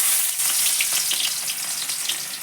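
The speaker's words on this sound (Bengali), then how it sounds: "তেল গরম হয়ে গেছে" Onion hits hot oil in a pan, setting off a loud, even sizzle with fine spitting crackles that holds steady, no voices over it.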